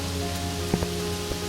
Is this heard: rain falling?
yes